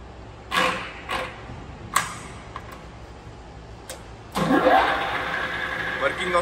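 A WMW BS 40 column drill machine from Germany runs its spindle at the top speed of 1400 RPM. A few sharp clicks lead into a loud, steady mechanical whir that fills the second half.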